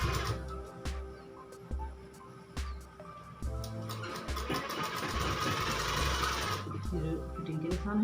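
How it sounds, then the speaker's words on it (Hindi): A sewing machine runs steadily, stitching the fitting seam along the marked lines of a ladies' shirt, its close mechanical whir broken by brief stops and restarts. "अब लगाएंगे फिटिंग की सिलाई, जो हमारा निशान है ना इसके ऊपर से।"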